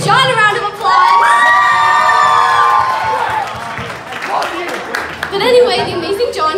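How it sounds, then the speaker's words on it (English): Crowd at a church youth camp band battle cheering and shouting, with loud whoops and young voices over scattered clapping that swells, fades, then rises again near the end. "so let's give John a round of applause."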